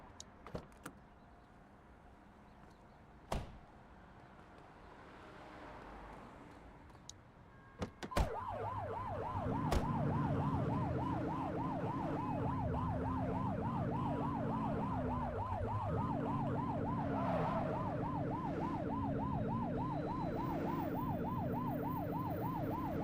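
A police car siren wails steadily in the video game The Precinct, starting after a few clicks and car sounds and then running continuously with a fast oscillating tone over a low engine hum.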